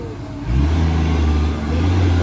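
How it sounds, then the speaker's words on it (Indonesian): An old long-chassis truck hauling palm-fruit cargo rumbles along a damaged road, its engine note swelling into a steady loud low drone that holds close and continuous. "Ini udah truk tua."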